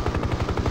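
Rapid helicopter gunfire from a Hind gunship's turret gun in the combat flight game Hind, a close, loud burst of fast, evenly spaced shots over a steady rotor drone.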